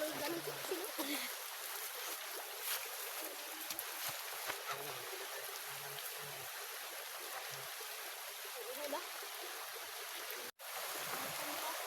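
A river flows steadily outdoors, a soft, continuous rushing and trickling of water heard at a moderate distance, with brief faint voices now and then and a short dropout near the end.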